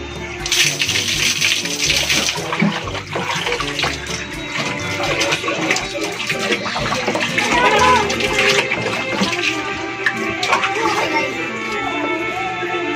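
Water splashes and runs from a tap while a face is rinsed at a sink rather than in a shower, loud and continuous with irregular splashes and someone talking over it.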